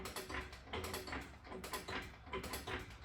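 Ratcheting clicks of a jack being pumped to lift a Toyota pickup, a steady repeating metallic rhythm of close, moderately loud strokes with no talk.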